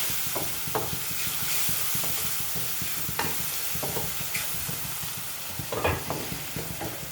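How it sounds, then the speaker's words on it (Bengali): Ground chili and turmeric sautéing in a hot pan, a steady close sizzle broken by repeated scrapes and knocks of a spoon stirring the spices. "এই মশলাগুলোকে এখন আমি ভালো করে কষাবো।"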